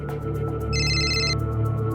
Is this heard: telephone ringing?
yes